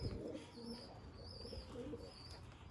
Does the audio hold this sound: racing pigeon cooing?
yes